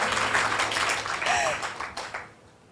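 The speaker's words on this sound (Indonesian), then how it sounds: "ya tepuk tangan dong buat Tuhan" A church congregation claps for God during a sermon. Moderate applause fills the room, then fades away near the end.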